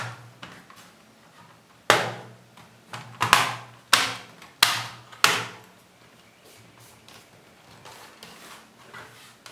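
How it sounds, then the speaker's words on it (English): Top cover of an Asus X441 laptop pressed down by hand to lock it shut after a cooling fan swap, giving a series of sharp plastic clicks and snaps, five distinct close knocks in quick succession with softer taps around them. "press the top cover down gently to lock it"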